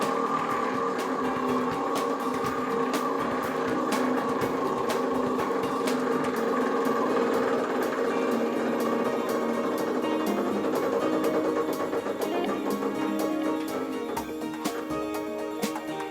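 A raffle wheel spins at a prize draw, its pointer making a rapid run of ratcheting clicks that slowly spread apart as it loses speed. A steady humming background sits underneath, and no voices are heard.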